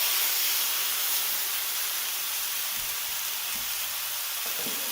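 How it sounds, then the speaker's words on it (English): Pork shoulder sears in a screaming-hot cast iron pan, giving a steady, broad hiss and sizzle that stays even throughout with no voices. "I had to share a little bit of that sizzle with you."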